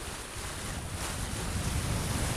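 Sea waves wash and wind gusts steadily past a sailing boat cruising near Ajaccio, Corsica. The sound is a loud, continuous rush of surf and buffeting wind with no voices.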